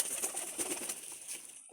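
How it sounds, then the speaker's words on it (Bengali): A red-necked pigeon coos in a short, faint burst, soft throaty calls under a hiss, ending quickly. "একদম পিওর গলায় লাল কবুতর"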